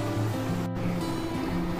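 A mixer grinder runs, blending Khandesh-style spice paste with a little added water: a steady, close electric motor whine with a layered hum, continuous except for one brief dip.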